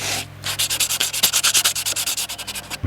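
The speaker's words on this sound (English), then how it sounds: "I'll just sand off some of these edges. A piece of sandpaper." Sandpaper is rubbed by hand along the edges of a wood pallet raised bed in about twenty quick, even back-and-forth strokes, close and fairly loud, with no talking.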